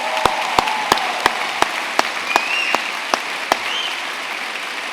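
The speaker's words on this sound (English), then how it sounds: "can we give a big round of applause to Sarah, who did an amazing job" Evenly spaced, crisp claps ring out about three times a second over a soft room murmur at an Open University degree ceremony in Newport, about a dozen distinct strikes rather than a full wash of applause.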